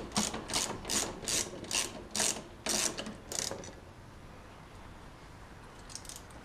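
A hand ratchet turns out the front screw of a rear passenger footpeg on a Kawasaki Ninja ZX636A, about eight crisp, evenly spaced clicks up close, then quiet fiddling.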